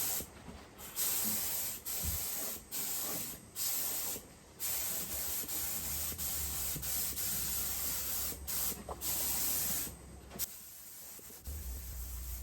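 A spray gun laying clear coat on an FJ40 firewall gives a steady, close hiss in long bursts. Brief pauses break the spray between passes.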